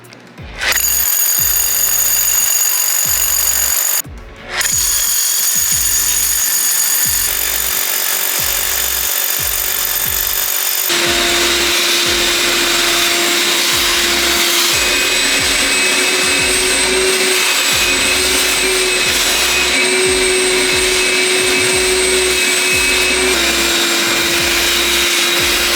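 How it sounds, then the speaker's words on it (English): A power drill bores holes into a concrete garage floor for mounting a MaxJax M7K two-post car lift, a loud, close, continuous whining grind with a brief stop early on, then a harsher, rougher pitch. "I got all 10 holes drilled out."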